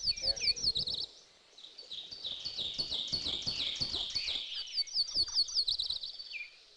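A myrtle warbler sings in a park, its rapid high chirping trills repeating throughout alongside other bird calls, with low rumbling and thumps beneath.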